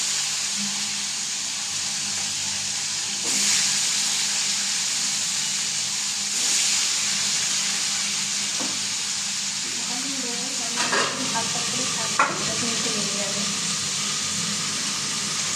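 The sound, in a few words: fish heads sizzling in hot oil in a wok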